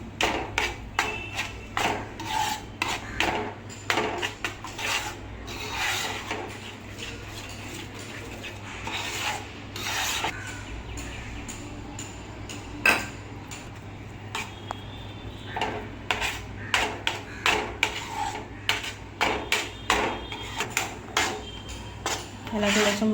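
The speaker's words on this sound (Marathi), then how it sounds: "बेसन थोडं थोडं करत मिक्स करायचं आहे पालकमध्ये।" Spatula scraping and clattering in a pan as gram flour is stirred into cooked spinach, irregular metallic knocks and scrapes close up, some loud, with a low steady hum beneath.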